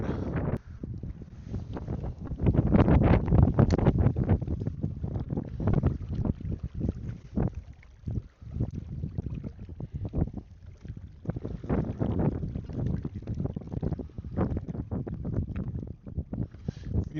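Wind blowing across a lake at a campsite, a continuous buffeting rush with gusts rising and falling throughout, no voices.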